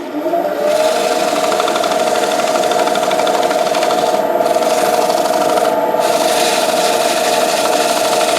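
A wooden bowl being polished by hand, a steady, loud friction whir holding a constant pitch throughout with a slight rasping texture, close up and continuous with no talking.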